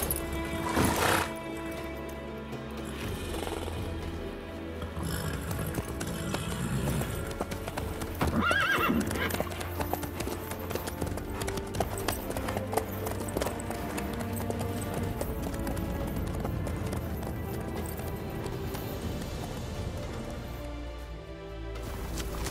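Horse hooves clip-clopping at a steady gallop with occasional whinnies in the video game The Witcher 3, layered over a busy background of music and ambience.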